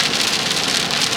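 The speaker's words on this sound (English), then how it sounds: "As usual in England, it's just torrential raining." Torrential rain pours steadily onto a car during an English drive, a dense, even hiss of drops drumming on the roof with no voices.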